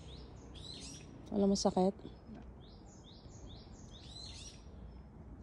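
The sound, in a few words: birds chirping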